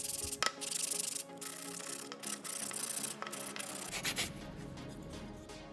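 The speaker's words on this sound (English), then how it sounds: "Then I sand all the pieces." Wooden pieces for a homemade smoke extractor being sanded by hand, a steady scratchy rubbing in repeated strokes, close and fairly loud with brief pauses between passes.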